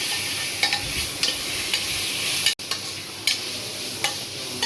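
Ground small onions sauté loudly for tomato biryani-style rice, giving a dense, steady sizzle close up, with periodic scraping stirs and one brief cut in the sound midway.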